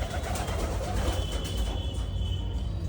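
Pigeons cooing in their coop: soft, low, continuous throaty coos close by, fairly faint, with no talking.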